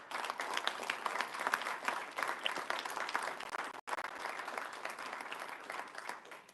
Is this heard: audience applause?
yes